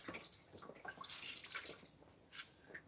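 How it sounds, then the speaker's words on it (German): Water drips and trickles from a washcloth being wetted for washing in a simple woodland outdoor setup, scattered close, fairly quiet splashes and patters over about three seconds, with no talking. "Da gibt es hier ganz einfach einen Waschlappen, der wird dann nass gemacht."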